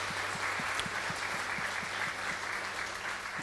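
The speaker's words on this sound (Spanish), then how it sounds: "¿Por qué no le da un aplauso a nuestro Señor Jesucristo en esta mañana?" Congregation applauding in a church service, a steady wash of clapping from the gathered worshippers with a faint low hum underneath.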